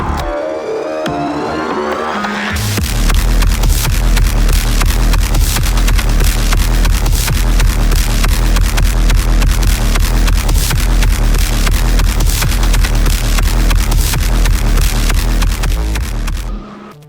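Heavy metal soundtrack music from the video game Doom: after a quieter opening, dense distorted guitars and pounding drums arrive, loud and unbroken for the rest of the passage.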